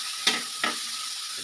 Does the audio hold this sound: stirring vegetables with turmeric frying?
yes